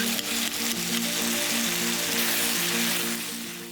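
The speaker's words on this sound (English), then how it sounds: "Mix it all well, heat the noodles and allow them to soften up and become slightly translucent." Wide rice noodles stir-frying with sauce in a hot pan for drunken noodles, a loud dense continuous sizzle with a brief tonal hum underneath, close up and without speech.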